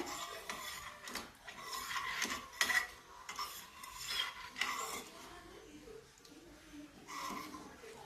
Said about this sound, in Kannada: ಈ ಥರ ನಾವು ತಿರುಗಿಸ್ತಾನೇ ಇರಬೇಕು ಇದನ್ನು, ಇಲ್ಲದೆ ಹೋದರೆ ಗಂಟುಗಳಾಗ್ಬಿಡತ್ತೆ